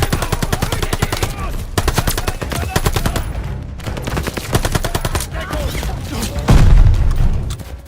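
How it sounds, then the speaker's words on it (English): MP40 submachine gun in Call of Duty: Vanguard, firing in rapid sustained bursts with dense rattling reports, close and loud, plus a heavier boom near the end. "It's our old favourite, the MP40"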